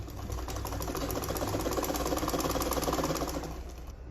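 A sewing machine stitches a seam on a sleeveless gown in one continuous loud, close run lasting about four seconds, with its rapid needle rhythm steady throughout and no talk.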